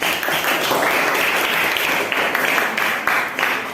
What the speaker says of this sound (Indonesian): Kasih aplaus dong.